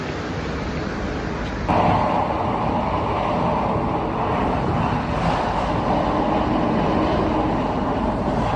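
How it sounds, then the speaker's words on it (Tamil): A KTM commuter train runs near Ipoh, giving a loud, steady rumble with a dense broadband roar that holds unbroken from start to finish and no voices. "ட்ரெயின் டு பட்டூர் எடுக்க போகிறேன்"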